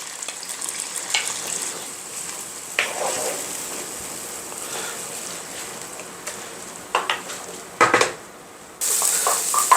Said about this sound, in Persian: حالا داخل همین روغن که سرشار از طعم هستش پیازایی که رنده کردیم رو اضافه میکنیم